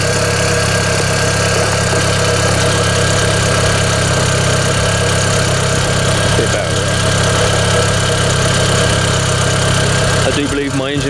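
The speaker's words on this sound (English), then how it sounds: "See here, that is running lovely." A VW Polo 9N3 GTI with the 1.8 20vt engine idles steadily and loudly nearby, a constant rough hum with some vibration, and a voice speaks over it near the end.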